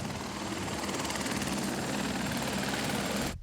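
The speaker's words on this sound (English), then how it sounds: "He goes by helicopter" A helicopter flies close by with a loud, steady rotor thump and engine whine, and the sound cuts off sharply at the end.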